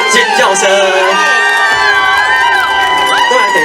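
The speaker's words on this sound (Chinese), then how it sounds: "给我们漂亮的主持人热情的掌声加尖叫声" A crowd at an outdoor evening concert in a park in Yonghe, New Taipei, cheers loudly with high screams and whoops. The sound is dense and sustained throughout.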